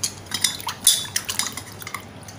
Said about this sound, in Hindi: इसको 3 बार 4 बार अच्छे से वॉश कर लेंगे साफ पानी से।